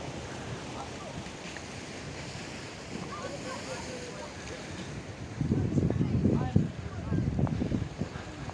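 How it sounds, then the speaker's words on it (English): Sea waves break against rocks along the Rmila beach shore in Bab El Oued, Algiers, a steady rushing wash with wind buffeting the microphone, swelling into louder crashing surges toward the end. "look at the waves as they are hitting the rocks."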